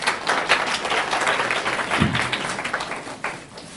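An audience at a school admissions information session claps, a dense burst of applause that swells and gradually thins out toward the end.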